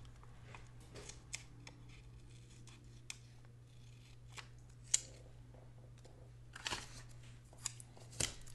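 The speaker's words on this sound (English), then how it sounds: "So I'm going to cut it." Scissors snip paper for a Big Happy Planner spread, quiet, sparse cuts with scattered clicks spread across the stretch at close range, no talking.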